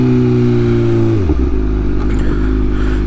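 A motorcycle engine idles with a deep, steady exhaust rumble, its pitch dropping and settling after a brief shift, close and continuous throughout.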